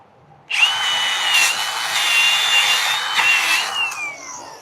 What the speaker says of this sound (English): I get my power tools.